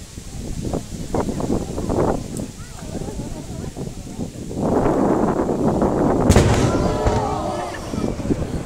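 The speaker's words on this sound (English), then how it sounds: "It's the loudest firework I just heard" Fireworks burst nearby outdoors, with several booming, crackling explosions rising in the second half, mixed with crowd noise and a voice talking over them.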